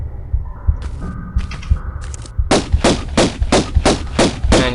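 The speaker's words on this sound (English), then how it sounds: "I'm using my pistols purely because I'm desperate for ammunition" Pistol shots in Tomb Raider: Unfinished Business, a few spaced single shots at first, then a rapid run of sharp, evenly paced cracks with mechanical clicks.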